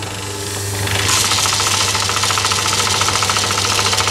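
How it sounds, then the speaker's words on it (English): A Myford ML7 lathe with a brand new set of spindle bearings starts up and runs steadily, its loud close mechanical whir with a fast knocking rattle building over the first second and then holding constant. "So I start the lathe up."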